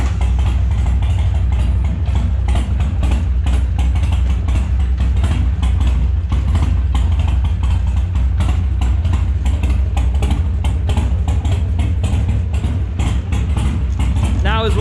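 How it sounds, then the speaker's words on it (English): A Harley Sportster motorcycle idles loud and close after an oil change, its V-twin engine giving a steady, rough, low throbbing rumble throughout with no pauses. "So we're gonna go ahead and fire the bike up, let it run, make sure we don't have any leaks,"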